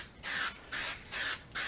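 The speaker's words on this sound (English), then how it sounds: "I was doing the same type of spraying." Aerosol coating sprayed onto an aluminum headlight housing in four short, even bursts of loud, close hissing, with brief pauses between passes.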